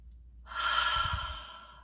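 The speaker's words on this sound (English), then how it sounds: "Take a nice deep breath with me." A single slow, deep breath taken during a calm guided pause, a soft airy inhale swelling into a long exhale, close and quiet with no talking.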